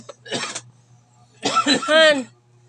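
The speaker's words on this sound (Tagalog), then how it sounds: "Ano ba yung ubo mo, oy?" Two short bursts of harsh coughing close by, the second longer and rougher with a throaty, voiced edge, against quiet background hum.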